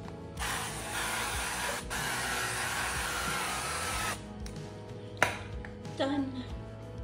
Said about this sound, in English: Time to spray my panini press.